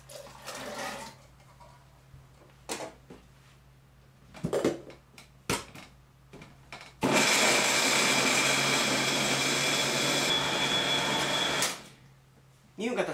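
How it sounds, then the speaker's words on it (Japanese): A blender roars steadily for several seconds at close range, grinding soybeans for homemade tofu, preceded by scattered clicks and handling noises, then cuts off abruptly. "もう一つも同様に2分間ミキサーにかけます。"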